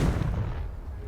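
A Confringo spell detonating in the Hogwarts Legacy video game: a single heavy, booming blast that fills the short moment, close and loud, with no voices.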